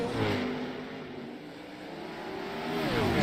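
Open-wheel 410 sprint cars racing on a virtual short oval at Huset's in iRacing, with a steady layered engine roar and rising and falling pitch sweeps as cars run side by side through the turns, alone.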